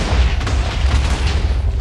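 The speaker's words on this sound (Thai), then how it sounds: "จะเกิดระเบิดขนาดใหญ่ขึ้น" A large trap explosion in the video game Minecraft, a deep continuous booming rumble that stays loud and dense for the whole short stretch with no pauses.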